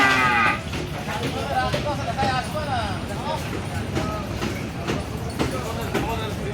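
Several large Australian-breed cattle moo loudly and repeatedly at the Zinzira cattle market, overlapping calls rising and falling amid the murmur of a busy crowd and background clatter.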